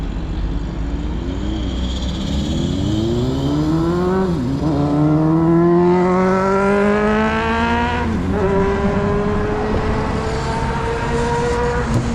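A car overtakes cyclists on a road, its engine note rising and falling in loud, close sweeps as it passes, dominating the scene with a continuous roar.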